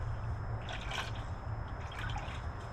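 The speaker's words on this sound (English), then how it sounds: "Keep filling it up until you just start getting little slight bubbles like that." Coolant gurgles and bubbles softly as trapped air escapes while a truck's cooling system is refilled, making small intermittent drips and pops against a steady low hum.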